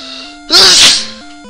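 A single loud, close sneeze bursts out with an explosive, breathy spray and fades over about half a second, set against a plain beeping tone from a retro role-playing game.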